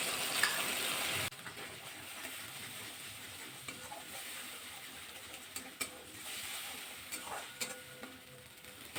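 Grated tomato and dissolved ground spice paste going into a hot frying pan for a vegetarian dish, giving a soft sizzle with intermittent stirring and scraping clicks, fairly quiet and close, without voices.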